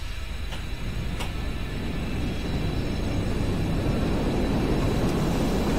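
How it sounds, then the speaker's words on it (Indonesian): A jet aircraft roars through the GTA V world in a steady, loud, broadband rush of engine noise that holds constant and slowly swells, with a couple of brief sharp ticks early on. "Ada pesawat jet ya"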